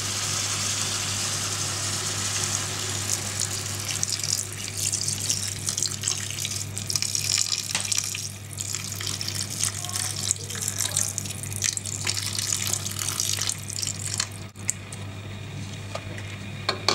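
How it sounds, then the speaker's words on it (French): Water runs into a pot of simmering blanquette de veau in a home kitchen, a steady moderate pouring and bubbling hiss over a constant low background hum, without talk. "Lorsque la préparation commence à frémir, j'y ajoute un peu d'eau."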